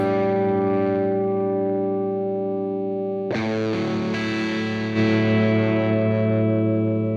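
A heavily distorted electric guitar through a Divided by 13 RSA 31 amp, driven loud into a compressor, sustains a thick chord, then a hard new strum hits, loud and compressed, ringing out densely.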